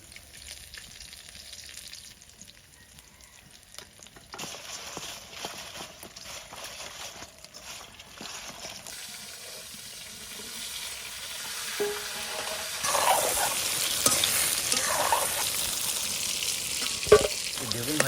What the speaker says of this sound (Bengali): এই মাছ ভাজা তেলের মধ্যে বেগুন কাটা হালকা করে একটু বাজিয়ে নেবো